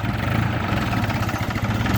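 A New Holland 4710 4WD tractor engine runs in high first gear around 1200 rpm while ploughing, a steady close low diesel throb with even pulsing rhythm and no talk.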